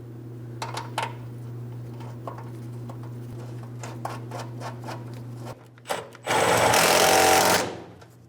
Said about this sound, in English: We'll start in our mounting bolt and snug it up.